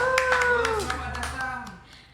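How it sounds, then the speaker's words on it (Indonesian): Hand clapping during a live acoustic Minang song cover session in Ramadan: a handful of sharp claps in an irregular rhythm, close by, heard under a voice and lingering tones that fade away toward the end. "Yeay, tepuk tangan dulu."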